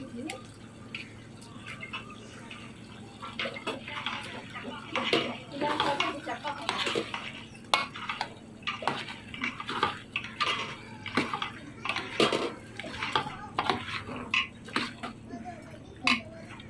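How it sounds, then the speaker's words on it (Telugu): A spoon stirs coconut paste into chicken curry in a metal pot, producing repeated clinks and scraping scrapes with faint wet sloshing. The sounds are close and run steadily under a voice talking throughout. "ఈ కొబ్బరి పేస్ట్ వేసుకున్నాక బాగా మిక్స్ చేయాలి."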